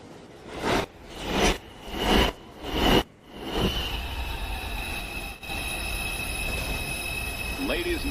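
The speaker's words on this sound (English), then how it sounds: "Downtown Express 2 train approaching the station." A downtown express 2 train on the New York City Subway rolls into a station, its wheels squealing and rumbling loudly and steadily as it nears, with a rising whine at the end and faint station announcements underneath.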